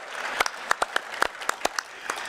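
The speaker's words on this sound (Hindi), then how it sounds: "इनके लिए ताली बजाओ, ये जल्दी लगा ले।" Scattered clapping from an audience at a public gathering in Bangalore, Karnataka, with a dozen or so distinct, uneven claps over a low crowd murmur, fairly near.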